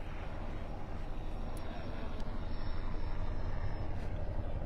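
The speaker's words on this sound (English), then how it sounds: "There's your helicopter." A helicopter flies overhead during an evening sunset boat cruise off Naples, its steady rotor and engine drone blending with broadband wind and water noise throughout, fairly constant in level.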